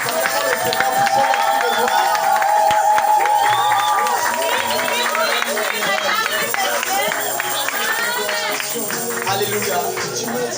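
A church congregation applauds and cheers continuously throughout, a dense, loud wash of clapping mixed with many overlapping raised voices.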